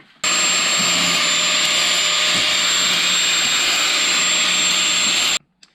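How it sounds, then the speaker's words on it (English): An angle grinder grinds off the edges of a homemade mast mount for a Sunfish small sailboat, a loud steady high-pitched whine running continuously for about five seconds, then cutting off abruptly. "next I'm going to take and just grind off the edges here."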